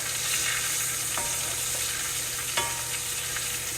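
Ribeye steak searing in a hot pan while being basted, a loud continuous close-up sizzle with a few light utensil taps and spoon clinks scattered through.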